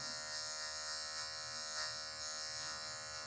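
A steady, close electric hair clipper buzzes continuously as it trims hair in a low fade haircut, the motor's tone holding even with slight fluctuations and no talk over it.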